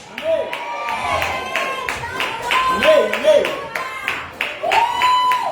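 Scattered rhythmic hand clapping from a congregation in a church service, under someone speaking loudly throughout.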